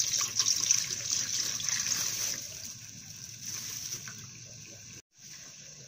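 Second pressing of coconut milk mixed with water poured into a cooking pot for Bicol-style ginataang yellowfin tuna, a steady close trickle and splash that thins out partway through, then stops with a brief break near the end.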